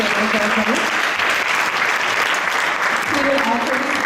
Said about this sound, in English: So another round of applause for Chaitanya Charan.